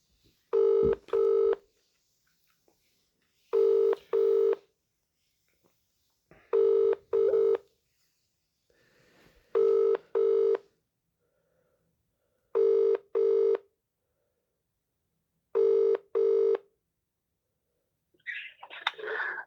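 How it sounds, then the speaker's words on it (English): Telephone keypad tones are followed by a repeating ring tone, six double rings spaced evenly apart, clear and close, ending in a faint rustle. "Ringing up Graeme, Kenna."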